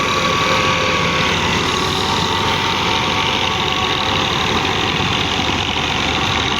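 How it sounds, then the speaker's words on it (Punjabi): A 2010 Massey Ferguson 375 tractor pulls a 54-blade Okara-made rotavator through hard, dry soil in second low gear, its engine droning steadily and loudly with constant churning noise and no talk. "ਦੂਜੇ ਲੋਅ ਗੇਅਰ ਦੇ ਵਿੱਚ ਟਰੈਕਟਰ ਚੱਲ ਰਿਹਾ ਜੀ"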